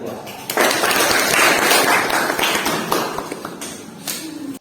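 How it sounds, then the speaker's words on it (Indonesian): Classroom applause for a student presentation at a university session. A dense burst of many hands clapping starts abruptly, stays loud for about three seconds, then thins into scattered claps. "Ya, kita kasih aplaus."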